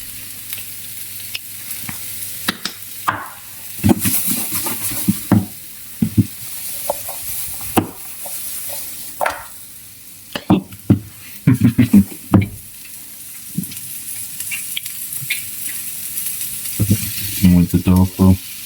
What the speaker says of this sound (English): Fry the curry.